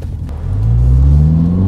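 A Ferrari 430 engine revs up and rumbles loudly as the tires spin, the tone rising steadily and close by.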